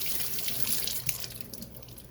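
Tap water runs steadily into a kitchen sink while sausages are rinsed under it, a continuous close splashing hiss with no talking.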